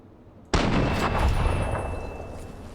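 Gunfire from the video game Fallout 3: one sudden loud shot bursts in after half a second of quiet, then a dense, booming roar holds steady and slowly decays over the next two seconds.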